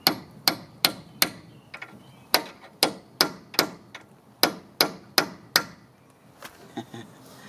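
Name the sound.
hammering a chisel to loosen a strut bolt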